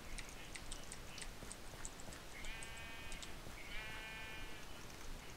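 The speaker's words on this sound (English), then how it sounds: "I wanna feed the sheep" Sheep bleating in Minecraft on a farm: two short wavering bleats in the middle, over a steady low background hiss and faint ticking clicks.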